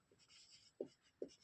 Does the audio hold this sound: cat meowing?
no